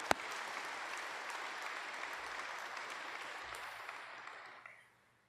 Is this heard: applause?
yes